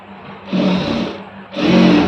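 A sewing machine stitches a folded quarter-inch hem on blouse fabric in two short, close bursts of whirring, separated by a brief pause.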